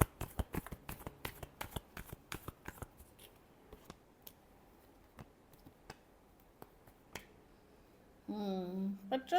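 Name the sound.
shuffling tarot cards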